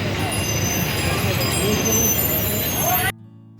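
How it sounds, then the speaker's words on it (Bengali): A Haryana Roadways bus pulls into the busy Haridwar bus stand amid a steady, loud roar of engines and road noise that stops abruptly near the end, with a voice speaking over it. "হরিয়ানার রোডওয়েজের বাসও আসছে এখানে"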